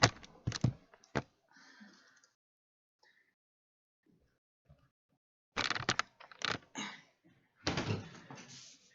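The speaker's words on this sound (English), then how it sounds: "I'm going to keep shuffling because that's just the first card there." A deck of cards is shuffled near the microphone during a tarot-style card reading, with quick crisp riffling bursts, then a quiet pause, then another longer run of rapid shuffling rattles.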